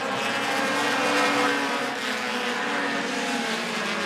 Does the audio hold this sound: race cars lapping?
yes